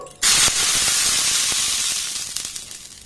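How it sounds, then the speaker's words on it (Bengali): Water splashed onto a hot greased tawa bursts into a loud, steady sizzle and hiss that holds strong for a few seconds, then slowly eases off with faint crackles. "এবার সামান্য একটু জল দিয়ে দেবো"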